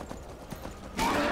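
Horse hooves clop softly in the snowy Skyrim game world, a few faint irregular steps before a louder, brighter burst of game noise takes over near the end.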